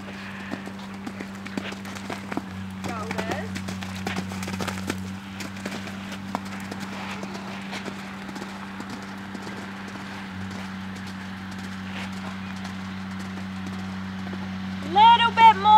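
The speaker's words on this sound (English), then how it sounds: "Little bit more canter, just a little bit." A horse canters in a training round, rhythmic hoofbeats close and steady throughout while a rider and trainer talk over it.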